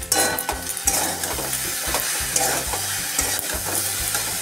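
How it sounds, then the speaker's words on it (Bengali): Spiced greens seasoned with salt, turmeric, cumin, coriander and a little sugar are stirred and sautéed in a frying pan, giving a steady sizzle with repeated scraping strokes of a utensil that carries on loudly throughout, with no voices. "এটাকে আবার কষিয়ে নেব।"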